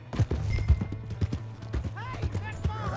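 Galloping horse hooves in Red Dead Redemption 2 in a rapid, repeating clip-clop, with a voice talking over the hoofbeats and music underneath.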